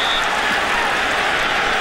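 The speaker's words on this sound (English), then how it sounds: "The crowd booing the spot." A stadium crowd at a college football game between Louisville and Rutgers roars in a steady, dense wash of noise, booing a ball spot, loud and continuous with no break.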